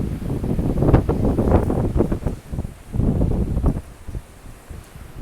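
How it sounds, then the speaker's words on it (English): Winter wind gusts outdoors near the shore at low tide, buffeting the microphone in loud, rumbling surges that rise and fall, easing toward the end. "Breezy here today."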